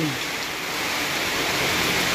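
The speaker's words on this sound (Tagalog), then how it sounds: "Walang tigil itong ulan na to. Simula pa kahapon." Heavy rain pours without a break during a typhoon, a dense, steady hiss that fills the whole stretch evenly at a loud level.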